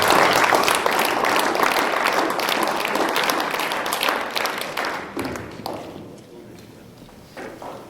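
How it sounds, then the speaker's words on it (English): Banquet audience at a football awards dinner applauding in a dense, steady patter that fills the room, then thins and fades out near the end, with talk faintly underneath. "Let's go ahead and give these guys a round of applause."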